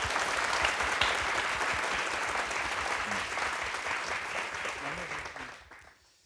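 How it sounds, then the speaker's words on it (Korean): Dense audience applause follows a crowdfunding pitch on a televised program, staying steady and full for several seconds before fading out at the end. "박수 부탁드립니다."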